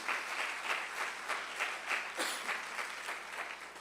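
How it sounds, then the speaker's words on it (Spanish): Church congregation applauding steadily throughout, a dense wash of many hands clapping with a brief louder swell partway through, fairly close and without speech. "Yo le daría un fuerte aplauso al Señor Jesús."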